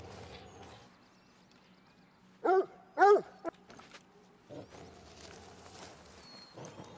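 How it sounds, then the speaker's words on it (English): Grey wolf growling in the hunting game theHunter: Call of the Wild, two loud snarling bursts in the middle over a quiet background, with fainter rustles and movement before and after. "Grey wolf warning, we got growling, we got growling ahead of us."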